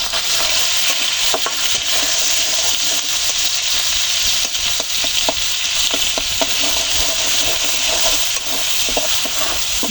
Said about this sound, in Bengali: হালকা লাল লাল করে উল্টে পাল্টে ভেজে নিতে হবে, যাতে চিংড়ির কাঁচা গন্ধটা না আসে।